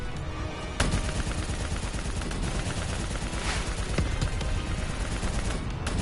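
Dense, continuous gunfire roars through a Call of Duty Black Ops 3 battle, loud bursts and rapid volleys stacking into a near-constant wall of shots with a sharper blast near the start and no speech.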